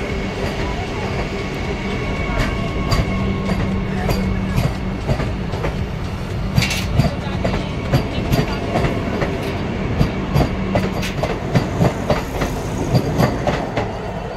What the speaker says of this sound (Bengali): ট্রেনটা স্টার্ট করে দিল। অযোধ্যা থেকে ট্রেন চলে যাচ্ছে গোমতীনগরের উদ্দেশ্যে।